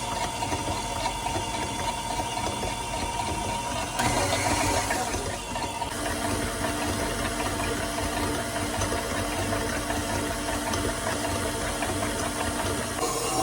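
An electric mixer whips cream for homemade butter with a continuous mechanical whir and drone. The motor hum stays steady and close with no talking.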